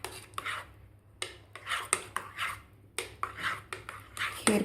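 Mango juice being stirred into cooled kheer in a pot, giving repeated close scraping and clinking strokes of a utensil in an irregular rhythm, with no talk.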